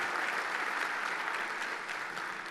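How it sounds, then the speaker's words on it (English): Audience applause at a lunch event, a steady dense wash of many hands clapping throughout, fairly loud and even with no talk over it. "Big round of applause."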